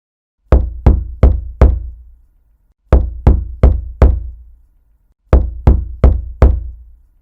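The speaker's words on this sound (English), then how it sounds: "She raised a hand and knocked loudly" Three sets of four sharp, loud knocks on a door, each set evenly spaced and separated by a short pause.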